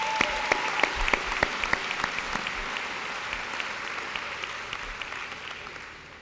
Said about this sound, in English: If you would, please give Nick another round of applause for his speech.